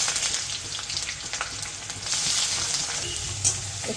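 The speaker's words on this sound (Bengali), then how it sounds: "গরম তেলে এবারে গরম মশলাটা দিয়ে দেবে। এবারে এই স্লাইস করা পেঁয়াজটা দিয়ে দেবে," Sliced onions hit hot oil with garam masala for chicken tehari, crackling and sputtering up close, the sizzle swelling louder midway and staying steady, with small pops scattered throughout.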